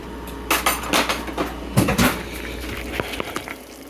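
Metal spoon knocking and scraping against a pot while stirring beef dumplings, a series of irregular clinks and clunks up close over a low steady background hum.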